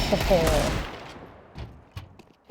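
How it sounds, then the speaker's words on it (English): A Desert Eagle pistol fires in a Counter-Strike match on the Vertigo map, a loud burst of rapid shots followed by a decaying tail and a few fainter pops, with a caster's voice running underneath. "We got Kayde boosting up onto headshot, sprays away with the Deeg"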